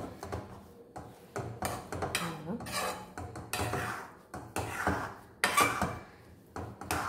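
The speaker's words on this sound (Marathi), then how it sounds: "आणि पुन्हा एकदा ह्याला आपण ढवळूया." A spoon stirs rava upma in a metal pan, scraping and clinking in steady, repeated strokes at close range, with no talk.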